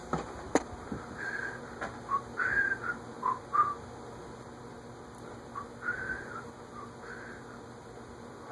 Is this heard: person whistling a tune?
yes